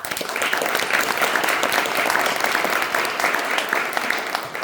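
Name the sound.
applause for victim service organizations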